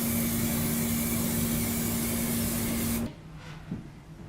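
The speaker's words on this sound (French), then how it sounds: "on va la stabiliser avec un vernis incolore tout simplement" A steady, close hiss of clear varnish sprayed from a can onto rusted metal, lasting about three seconds before it cuts off abruptly to near quiet.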